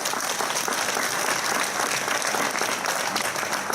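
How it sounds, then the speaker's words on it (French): An audience at a New Year's address in Tarbes breaks into sustained applause, dense and even clapping from a large crowd filling the room without pause. "On peut même l'applaudir."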